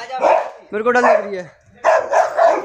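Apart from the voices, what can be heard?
large dog barking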